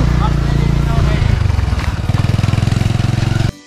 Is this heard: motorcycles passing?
yes